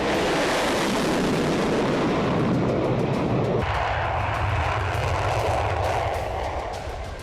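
Engines of Russian bomber aircraft roar loudly and continuously in a broad, rumbling wash that holds steady, then eases off slightly toward the end. No one is speaking.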